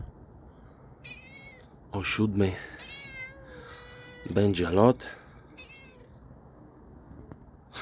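A cat meows repeatedly nearby, high wavering cries coming in several bursts, while someone talks over and between them.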